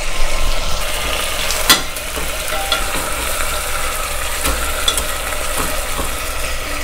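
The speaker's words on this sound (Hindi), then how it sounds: "इस तरह फ्राई करने का मकसद ये है कि मैं चिकन को ऊपर से सील कर रही हूँ ताकि चिकन अंदर से जूसी रहे" Chicken seasoned with black pepper sears in a hot pan, a loud, continuous close-up sizzle with a few sharp clinks from the utensil and no voices.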